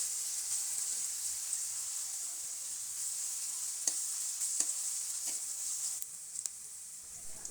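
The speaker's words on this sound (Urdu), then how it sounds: "بس ہلکا سا پیاز جو ہے نا اسی کو ہم نے فرائی کرنا ہے" Sliced onion fries in a very small amount of oil, with a continuous soft, hissing sizzle broken by a few sharp pops and spatula clicks toward the end. Nobody speaks.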